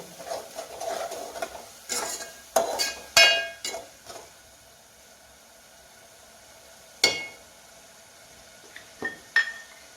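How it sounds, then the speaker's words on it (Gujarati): A spoon stirs a fenugreek, pea and potato curry in a pan, producing several separate metallic scrapes and clinks against the vessel, bunched early and then spaced out, close and fairly loud against quiet pauses. "અને પછી એ શાક હલાવી દેવાનું અને મસાલો થોડો ચડવા દેવાનો"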